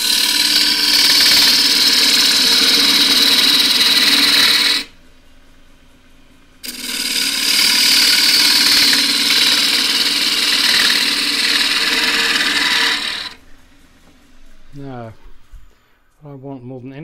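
Wood turned on a lathe with a shallow spindle gouge while shaping a square dish, a loud steady cutting roar for several seconds, a brief pause, then another long cut, ending with quieter talk.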